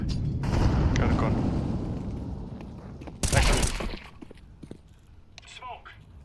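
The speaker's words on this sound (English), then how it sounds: "Incendiary out. Throwing fire." Incendiary grenade bursting in a tactical shooter game, a sudden loud whoosh and crackle flaring up mid-clip over ongoing gameplay noise and voices, then fading into scattered softer clatter.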